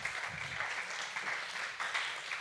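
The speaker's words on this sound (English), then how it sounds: "Applaud the poet. And applaud our judges." A crowd at a poetry slam regional final applauds the judges, a steady wash of clapping from the audience throughout, moderately distant and without any talk.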